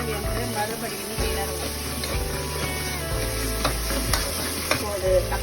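Tomato and fish curry sizzles steadily in a pan while being stirred, with occasional scrapes and clinks of the spoon against the metal; a low steady hum runs underneath.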